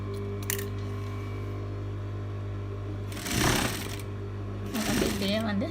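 A sewing machine stitches the arm curve of an off-shoulder dress in two short, close, rattling bursts separated by quiet, with someone talking at the end.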